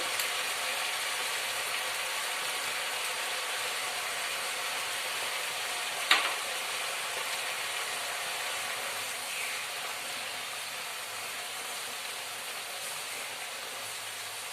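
Spice paste of ginger, green chili and tomato frying in a pan for khichuri offering, giving a steady, even sizzle and hiss throughout with one sharp click partway through.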